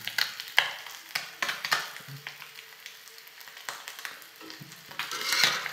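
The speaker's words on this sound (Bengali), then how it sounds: "তরতাজা পুঁটি ভাজা" Fresh puti fish frying in a pan, a continuous close sizzle broken by scraping, clattering stirs and utensil knocks, with no talking.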